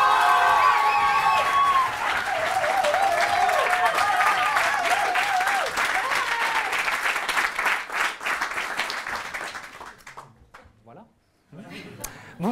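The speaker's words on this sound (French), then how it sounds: "Je vous demande d'applaudir la première en public de monsieur Romain Giraud." A live comedy show audience applauds a performer's first public appearance, with loud sustained clapping, cheers and crowd voices that gradually thin out and fade, followed by a few scattered claps and quiet room noise.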